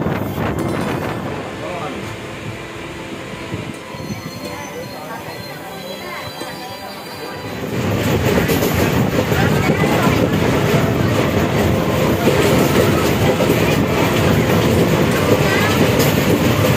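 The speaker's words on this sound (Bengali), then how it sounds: "ট্রেন ঢুকবে বাহারা এক্সপ্রেস।" Bahara Express passenger train from Azimganj pulling into a station, a quiet rumble for the first half giving way to a loud, sustained roar of rolling wagons and rail noise with wind buffeting the microphone.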